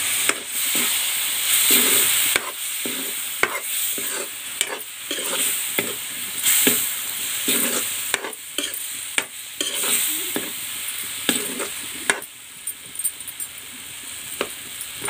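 Tomatoes frying in a pan with chili powder, a continuous hissing sizzle close by, punctuated by frequent scraping and knocking as a spatula stirs the mixture against the metal.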